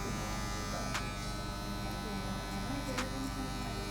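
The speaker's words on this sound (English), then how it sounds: "I'm just gonna open the clipper guard, pop it up to a 1 1/2" An electric hair clipper set to a 1 1/2 guard cuts hair during a mid fade haircut, a steady close buzzing hum with two brief brushing accents, running continuously without breaks.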